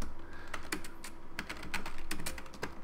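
Rapid typing on a computer keyboard, with clustered key clicks in quick uneven bursts, close and clear with no voices.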